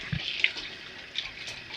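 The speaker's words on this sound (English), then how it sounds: "This is cold water I'm running this onion under." A kitchen tap running cold water over an onion while preparing mashed potatoes, a steady close splashing hiss with small bright spatters, moderately quiet and unbroken.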